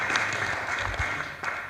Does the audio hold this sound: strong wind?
no